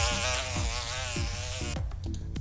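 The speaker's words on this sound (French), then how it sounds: "on peut mettre des bruits de mouches" Housefly buzzing close by, a continuous droning whine that wavers in pitch, with soft low thumps underneath and a brief fade near the end.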